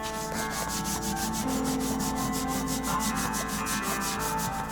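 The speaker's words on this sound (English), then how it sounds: "Carefully scraping the deep crusted dirt off without damaging the paint." A scraper works deep crusted dirt off a painted header in fast, steady rasping strokes, close and continuous with no talk.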